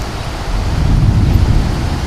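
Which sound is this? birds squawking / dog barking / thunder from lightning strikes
thunder from lightning strikes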